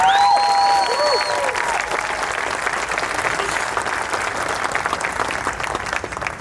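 Sustained audience applause fills the whole stretch at a Q&A event, dense and steady with a few whistle-like tones early on, holding loud throughout.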